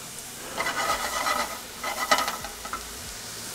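Vegetables cooking in a pan, a short burst of soft sizzling and scraping stirs in two clusters, close and moderately quiet.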